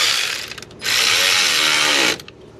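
A ratchet clicks rapidly while tightening a car battery terminal, with a few short bursts followed by a steady, loud run of clicking lasting over a second, then a couple of final clicks, close up.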